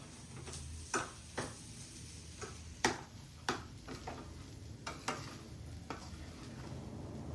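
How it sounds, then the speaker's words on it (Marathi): Cashews and raisins are sautéed with semolina and banana in a pan, giving a soft steady sizzle broken by sharp scraping taps of a spoon every second or so. "त्याच्यात आता काजू आणि बेदाणे घालायचे आणि परत एकदा छान परतून घ्यायचं"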